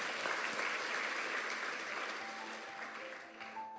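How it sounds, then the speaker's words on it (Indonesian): A church congregation at an evening service claps together in sustained, steady applause that tapers slightly toward the end, fairly close, with faint tonal sounds beneath. "Tepuk tangan bagi Tuhan Yesus."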